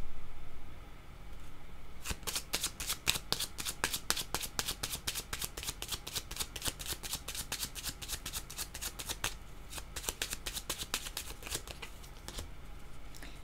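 Tarot cards being shuffled by hand, a long run of quick crisp riffling flicks close to the ear, steady and unbroken after a brief quiet start, with no talking.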